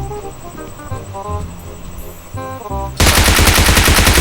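Video game gunfire from a squad battle-royale match: a few scattered shots with tonal game effects, then a loud, sustained rapid machine-gun burst close up.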